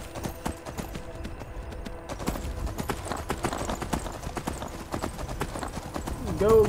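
Horse hooves clip-clop in a fast, steady gallop in the video game Skyrim, a continuous close rhythm of thuds under someone speaking.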